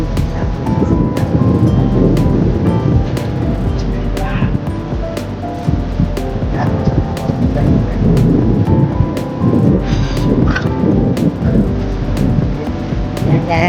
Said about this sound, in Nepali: खोला आइरहेको छ